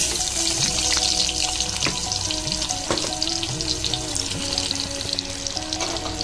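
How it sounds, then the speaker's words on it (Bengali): Chopped onions go into hot oil where cumin seeds have already turned red, giving a loud, steady, close sizzle with faint bubbling and stirring throughout and no voices. "আমি এবার দেবো কুচিয়ে রাখা পেঁয়াজ"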